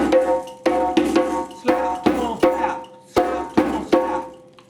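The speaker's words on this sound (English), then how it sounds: "We call it pont to pont, slap, tone, slap, but it's pont to pont. And it sounds like this." A hand drum plays a Mandiani accompaniment pattern of slap, tone, slap, with sharp, close hits grouped in a repeating rhythm that recurs about every second, played alone.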